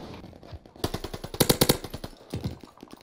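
Rapid automatic gunfire in the video game Call of Duty Vanguard, several dense bursts of sharp shots, loud and close, with brief gaps between bursts and no talk.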